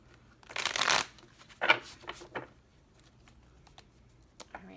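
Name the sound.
shuffling a new tarot card deck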